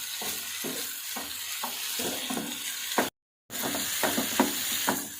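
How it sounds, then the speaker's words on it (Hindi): Macaroni being roasted and stirred in a pan for egg macaroni, with a steady sizzle and repeated scraping strokes of a spoon, close and fairly loud, cut by a brief silent gap partway through. "एक मिनट के लिए आपने भूनना इसे मकरोनी को"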